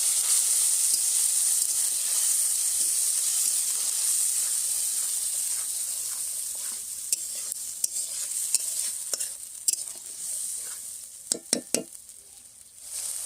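Onion masala frying in oil for a fish curry, a steady bright hiss of sizzling that softens midway, then sharper crackles and spoon scrapes toward the end, close up with no speech.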